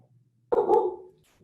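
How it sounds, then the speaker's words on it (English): A dog barks once or twice in a short burst in the background of an online call, a clear close bark with a brief trailing whine. "I got a dog barking in the background"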